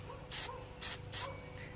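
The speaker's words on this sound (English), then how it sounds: "test spray your can in the air" A can of Plasti Dip rubber coating is test sprayed into the air in three short hissing bursts, close and evenly spaced, with a low hum of the room beneath.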